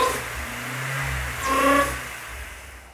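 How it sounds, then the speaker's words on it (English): Supercharged BMW Z3 engine with a new intake pipe revving up once, a smooth rising then falling whir with a faint whine on top, heard close and alone. "Bruno's just informed me that the intake pipe that he's fitting is going to make a lot more supercharged noise"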